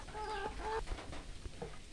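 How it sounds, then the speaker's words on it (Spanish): A hen clucks close by on a rainy afternoon, a few quick rising clucks followed by softer scattered notes over a dull background hum. "La gallina."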